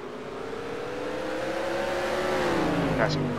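Hobby stock race cars at Rockford Speedway roar steadily around the track, engines droning in a rising, overlapping pack that grows slightly louder as they pass, with an announcer talking over the noise.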